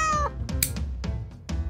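A cat gives one clear, close meow, followed by several shorter, softer sounds and small noises, with no one speaking.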